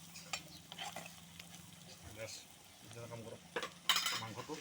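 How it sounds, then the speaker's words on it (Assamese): Meat poured into a hot pan of frying oil and stirred, with close scraping and clinking of a utensil against the pan and a steady sizzle, ending in a louder burst of sizzling. "মাংসটো ইয়াত মাংসটো ঢালি দিম"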